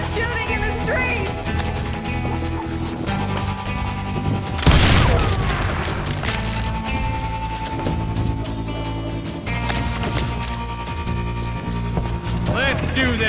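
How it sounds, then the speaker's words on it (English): Gunfire rings out in a Wild West street in Call of Juarez: Gunslinger, with a loud burst of shots and crashing impacts near the middle over a steady backdrop of game music and effects. "They're shooting in the street!"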